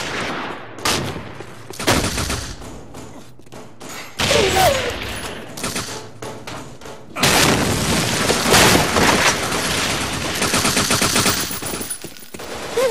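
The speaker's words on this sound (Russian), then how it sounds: "Бросаю гранату." In the video game Run and Fire, a grenade explosion and gunfire ring out: bursts of rapid automatic fire, booming blasts and impacts come in heavy clusters separated by short lulls, loud and close.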